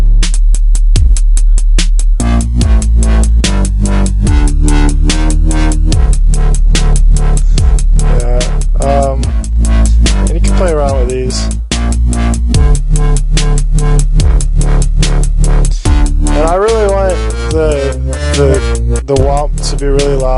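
A dubstep track plays back, with a heavy, loud sub bass synth line pulsing in rhythmic stabs and wobbling, pitch-bending synth sweeps layered on top, continuous and without talking.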